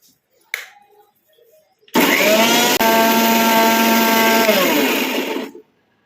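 After a faint click, a mixer grinder grinding beetroot and leaves whirs loudly and steadily for several seconds, its pitch slowly rising, then cuts off abruptly.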